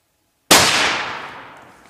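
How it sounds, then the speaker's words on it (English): A single loud rifle shot fired at a bear during a hunt, a sharp sudden crack followed by a long fading echo, with no talking. "Take the safety off and shoot him."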